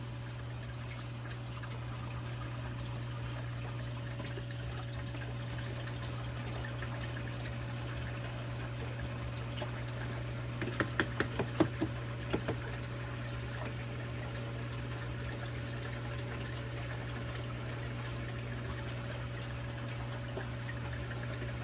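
A Jebao DP-4 dosing pump runs steadily with a constant low hum, and partway through a short burst of faint trickling and clicking is heard as liquid and air move through the line.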